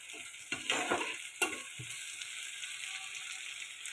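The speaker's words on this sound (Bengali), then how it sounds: "এখন এগুলোকে আমি একটু হালকা ফ্রাই করে নিব" Shell-on prawns lightly frying in a pan give off a steady sizzling hiss, with a few clattering stirs and scrapes near the start. No voices are heard.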